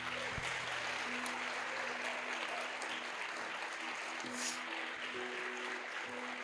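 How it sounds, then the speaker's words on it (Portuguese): A church congregation claps together in praise, a steady wash of applause heard from some distance in a reverberant hall. "Vamos aplaudir Jesus?"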